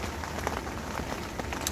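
Rain patters steadily on a carp-fishing shelter beside a lake at Wraysbury, a dense wash of drops with scattered sharper taps, heard up close and fairly quiet with no voices.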